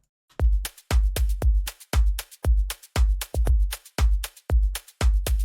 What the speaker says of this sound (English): Let's say we start with a drum loop like this.